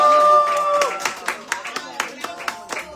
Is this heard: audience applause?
yes